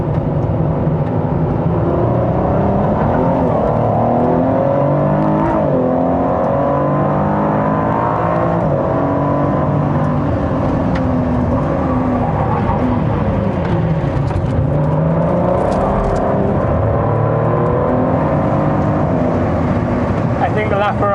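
A Ferrari F50 drives on a racetrack, its engine drone steady and fairly loud throughout with rising and falling pitch as it accelerates, heard from a nearby car, with people talking over it.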